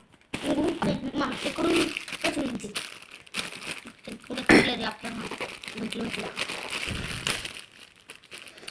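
Plastic parcel packaging from an online order crinkles and rustles as it is opened by hand, with irregular close-up crackling bursts and one sharper tearing sound, under ongoing talk including a voice.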